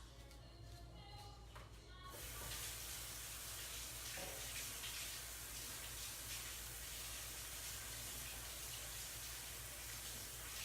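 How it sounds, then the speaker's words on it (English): Hands are washed under a running kitchen tap, a steady close rush of water that swells after a quieter opening couple of seconds and continues without a break. "I'm gonna wash my hands real fast."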